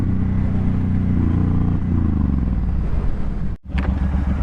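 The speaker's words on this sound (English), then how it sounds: "this bike sounds so freaking good" A Suzuki Boulevard M109R cruiser motorcycle engine rumbles loud and close at a deep steady idle, with a brief dip near the end before the throb resumes.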